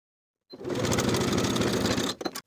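A sewing machine runs in one steady burst, stitching a straight 1/8 inch seam along a folded fabric side strap for carpenter pants, then slows with a few stuttering stitches before stopping.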